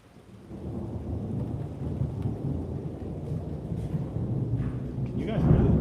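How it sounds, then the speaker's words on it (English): Deep rolling thunder rumbles continuously over steady rain, swelling louder near the end; a voice speaks faintly beneath the storm. "Dang, boy. Rolling thunder."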